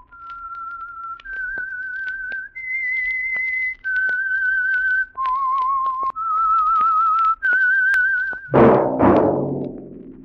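A lone whistler holds a slow, eerie tune of long sustained notes, a 1947 radio program's signal theme, followed by a sudden burst of low, rising noise at the end.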